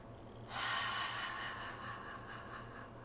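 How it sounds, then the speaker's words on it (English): A deep breath drawn in through the mouth during a belly breathing exercise, a single soft breathy inhale that rises suddenly and holds steady for a few seconds, close and quiet. "Deep breath in through the mouth."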